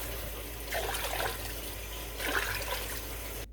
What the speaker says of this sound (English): I'm going to add in 6 to 8 cups of water.